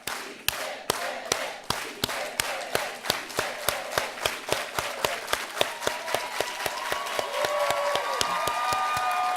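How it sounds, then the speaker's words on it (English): A crowd at a university Chicana/o and Latina/o Studies anniversary event claps in unison, an evenly spaced beat of sharp single claps that gradually quickens, while voices rise and swell beneath it toward the end. "let's all do it together with an organized hand clap."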